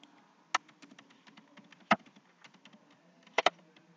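A few sharp, separate key taps on a computer keyboard as a password is entered, soft and close, with short pauses between strokes over a low background hum.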